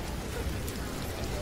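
Soft, steady rain pattering on surfaces as a shower nears its end toward evening, a faint even hiss with no voices.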